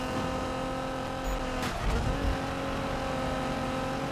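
Nissan GT-R from 2017 in a Need for Speed race, its engine roaring steadily as a nitrous boost kicks in with a brief whooshing burst in the middle, loud and close with no talk.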